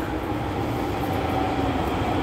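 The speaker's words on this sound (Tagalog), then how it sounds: "Ayan na yung tren." A train pulls into Dobutsuen-mae station in Osaka, producing a constant low rumble and rolling hiss that holds steady and close for the whole moment, with no voices.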